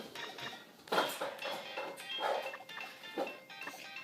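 A dog in a nearby room lets out short, faint barks and whimpers at irregular intervals, with light clatter in the background.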